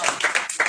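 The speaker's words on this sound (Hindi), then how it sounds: "अंत में ताली बजा दीजिए," Audience clapping at a church gathering, a short burst of bright, dense hand claps rising and falling in two waves, fairly close and alone without talk.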